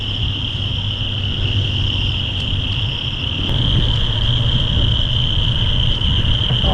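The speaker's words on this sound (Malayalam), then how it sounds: "എന്തോ തമിഴ്നാട്ടിലും ചീവീടോ." Cicadas or crickets in Tamil Nadu near Pamban keep up a continuous high, steady shrill drone over a low rumble of traffic or wind, constant throughout without any talking.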